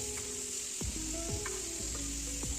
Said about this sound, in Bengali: এই তেল দিয়েই বেগুনগুলো ভেজে নেব।